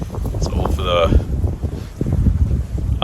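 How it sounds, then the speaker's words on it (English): Gusty wind buffeting a small microphone outdoors beside a river while fishing, low rumbling bursts rising and falling under a man's speech. "It's windy out"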